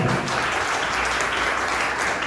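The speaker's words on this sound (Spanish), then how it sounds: "Dame un aplauso al Señor." A church congregation claps in steady, dense applause for the Lord, a close and continuous wash of hands with no voices heard.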